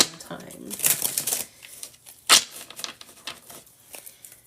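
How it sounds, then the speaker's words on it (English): Tarot cards are shuffled in a quick riffle with a sharp snap, heard close up, while a person talks quietly around the shuffling. "I feel like I need to shuffle one more time."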